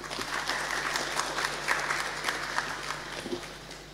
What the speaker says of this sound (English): I'd like you to just give a round of applause for Mr.